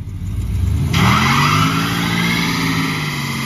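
The 440 V8 engine of a 1968 Imperial Crown Coupe roars loudly as it revs hard for a burnout, its pitch climbing and then holding at a high, strained drone.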